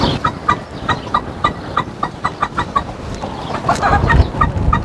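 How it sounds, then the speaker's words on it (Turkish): A flock of chickens in a coop clucks in quick, repeated bursts, with one louder call near the end that could be a rooster crowing, all close by. "Horoz."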